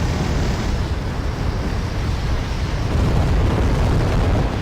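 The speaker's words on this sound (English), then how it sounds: "We do start a small artillery barrage" An artillery barrage in the Wargame Red Dragon battle game, a dense, loud, continuous roar of rumbling explosions with no distinct gaps.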